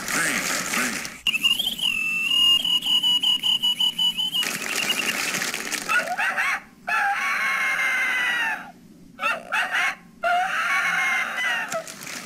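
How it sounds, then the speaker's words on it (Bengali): A chicken gives a loud, close run of clucks and drawn-out calls, with a few short breaks between bursts and no talk over it. "মুরগি ডাকে তবে বিশেষ অবস্থায়"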